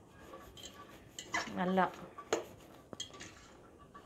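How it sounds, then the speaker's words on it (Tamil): A spoon scrapes and clinks against a bowl while chopped onion is mixed into chickpea chaat, a Chennai street-style channa chaat. The clatter comes in a short close burst, then a couple of sharp taps, with a voice speaking briefly. "இப்போ இந்த ஆனியன் வந்து நல்லா இப்படி மிக்ஸ் பண்ணிடணும்."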